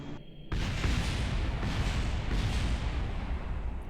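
A chain of explosions goes off in the Kerbal Space Program video game, starting with a sudden loud boom and rolling into a sustained, dense crackling roar of blasts that stays loud to the end.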